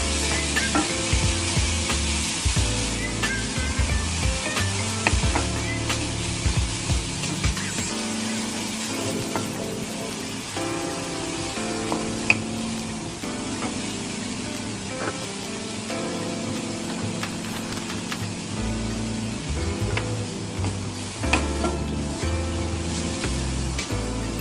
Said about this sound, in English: We will saute all these things until slightly light brown.